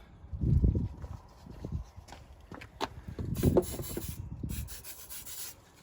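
A brake caliper being scrubbed clean with degreaser on a car's rear brake, giving irregular bursts of rough brushing and rubbing strokes, close and moderately loud, with brief pauses between them.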